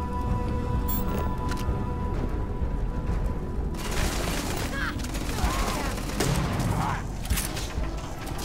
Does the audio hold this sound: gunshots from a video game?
yes